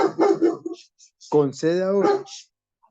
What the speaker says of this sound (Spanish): aquí hay un perrito que ladra cristianamente